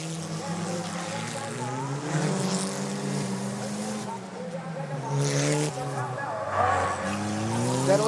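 Formula 1 race car engines revving on a racetrack, loud and sustained with rising and falling pitch sweeps as cars pass, mixed with commentator voices over the engine roar.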